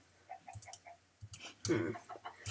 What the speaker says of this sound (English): I could try to defeat one of these chickens and get some food